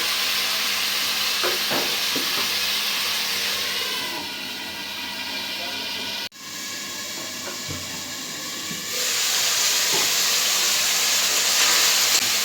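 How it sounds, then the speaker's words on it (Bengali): Cauliflower, potatoes and vegetables sauté with spices in a pan in a village kitchen, a steady loud sizzle and hiss running throughout, briefly dipping midway before returning stronger. "আলু তরকারিটা দিয়ে দিব মশলার সাথে সবজিটা কষায় নিব ভালো করে"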